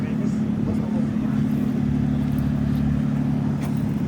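A Toyota 4Runner engine drones steadily at close range as the vehicle pulls itself out of sand on a beach, a low continuous rumble with slight revving swells, while people talk in the background.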